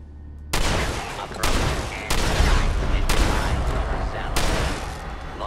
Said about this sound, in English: I forgot those things explode.